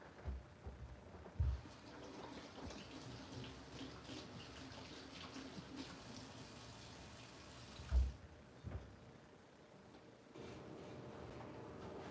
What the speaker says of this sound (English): I'm gonna rinse these hands off real quick.